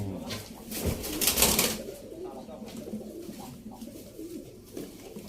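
Pigeons coo in a low, rounded rhythm close by, with a louder burst of rustling or wing movement early on, then softer repeated coos over a quiet background.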